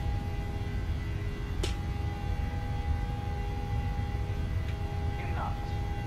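A Boeing 737 in the PMDG flight simulator holds steady at takeoff power, its engines producing a constant, fairly faint roar with a sustained whine, while a voice speaks briefly over it.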